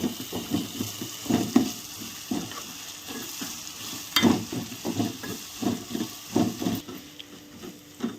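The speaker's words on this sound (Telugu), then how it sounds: "ఇప్పుడు ఇది కూడా పచ్చి వాసన పోయే వరకు కొంచెం వేయించుకుందాం." Masala frying in a pan for Telugu-style chicken fry, with a soft sizzle under repeated stirring and scraping strokes that come in an irregular rhythm, close and moderately loud.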